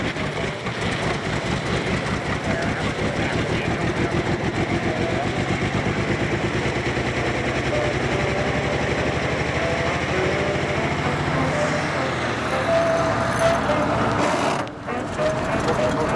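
A 1920s car engine lugs under throttle on a vintage motor camp road trip, a steady rhythmic chugging that runs continuously and fairly loud, with a brief dip and change near the end.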